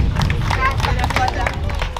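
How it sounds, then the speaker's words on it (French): Spectators clapping and cheering at the finish of an amateur swimming race, scattered claps over crowd babble and voices, moderately loud and reverberant as at an indoor pool. "applaudissements s'il vous plaît"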